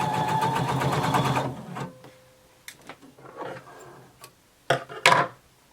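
A sewing machine stitches a bodice seam, running over flattened seam allowances in one steady, close burst of about a second and a half. It then stops, followed by scattered light clicks and handling noises.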